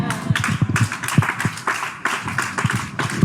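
A church congregation applauding to acclaim Jesus, with brisk, uneven rhythmic clapping close by, loud and continuous with a few sharper individual claps standing out.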